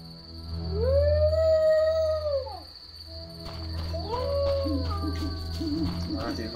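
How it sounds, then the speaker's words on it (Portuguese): A dog in the video game The Witcher lets out a long, rising and falling howl up close, then after a brief pause a second, shorter howl, over a steady low ambient hum. "That dog seems to be looking for something."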